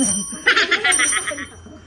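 A small bell rings quickly several times in a short, bright burst, with a voice and light laughter around it.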